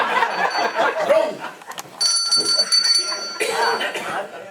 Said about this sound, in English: You said bell. Ring it then.